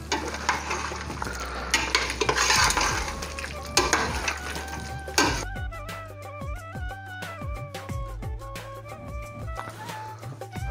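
Curry leaf pepper chicken with crushed pepper is stirred in a pan, giving a sizzling fry with scraping and clinking of the utensil against the pan over soft background music.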